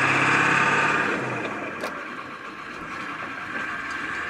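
A car pulling away in first gear after repairs, engine tone strong at first then fading and settling into a steady hum, with faint whine and a brief click.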